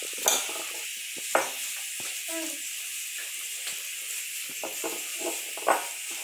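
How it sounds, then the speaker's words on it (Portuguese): Chayote fritter batter frying in hot fat: a steady, close hiss of sizzling with scattered sharper pops and utensil clicks running throughout, no talking. "Agora é só fazer assim as pesadinhas, colocar na gordura quente e fritar."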